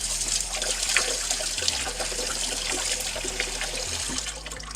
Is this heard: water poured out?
yes